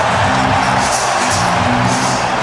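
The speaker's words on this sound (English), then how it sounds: "Look at that noise, that crowd." A large crowd roars loudly at the NFL Draft in Green Bay, a dense, sustained wash of cheering with no break.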